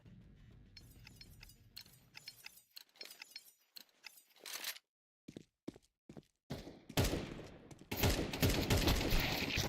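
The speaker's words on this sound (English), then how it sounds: "barely surviving a brutal firefight to equalize the match" Rapid bursts of video game gunfire crackle through a brutal firefight, with scattered shots and clicks first, then dense sustained volleys growing louder toward the end.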